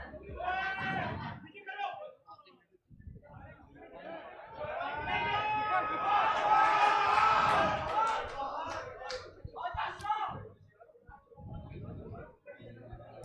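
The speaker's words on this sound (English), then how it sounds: "The noise you can hear behind me is the KGS support." KGS school football supporters at a Karachi United School Championship quarter-final cheer and shout as a loud crowd, swelling to a sustained roar in the middle. A commentator's voice runs over it at times.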